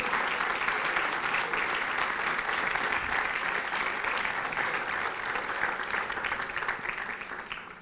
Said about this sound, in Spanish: Si le doy un aplauso al Señor